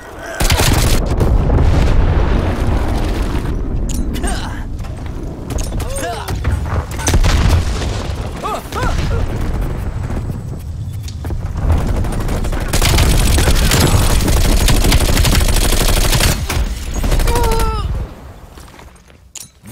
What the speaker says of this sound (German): Napalmangriff nähert sich.